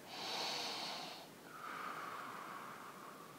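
Slow, audible breaths during a spinal extension stretch: a long airy inhale is followed by a softer, steady exhale, close and alone with no talking.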